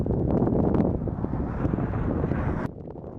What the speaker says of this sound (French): il y a un bon peu de vent